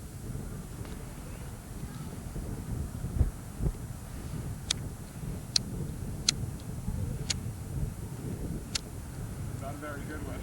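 Low rumbling wind buffets the microphone in steady gusts, with a few sharp clicks and faint voices underneath.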